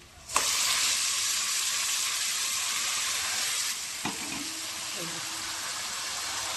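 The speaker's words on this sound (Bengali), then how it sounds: "এবার ম্যারিনেট করে রাখা মাংসটা আমি এর মধ্যে দিয়ে দেবো" Marinated mutton drops into a pan of fried onions, setting off a loud, steady sizzle that surges at once and holds throughout, with a brief clatter of stirring near the end and a voice faintly in the background.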